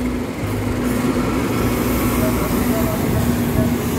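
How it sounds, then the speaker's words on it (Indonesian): Long-distance train from the Pasar Senen direction rolling through Jatinegara station on track 7, a steady rumble and rail noise throughout, with a faint tonal hum and a voice talking over it. "kita juga bisa melihat kereta api jarak jauh dari arah Pasar Senen"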